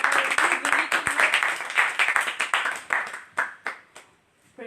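A church congregation claps and applauds during a service, a dense burst of many hands that thins into a few scattered claps and fades near the end.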